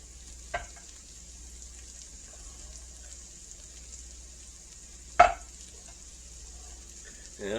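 Garlic sizzles in a frying pan as a steady, faint hiss runs throughout, broken by a couple of sharp clinks or taps from a utensil.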